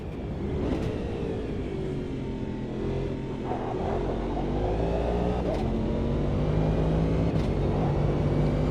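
An electric race car accelerates hard out of a corner, its motor whine rising steadily in pitch over a loud continuous roar, heard close with no talking.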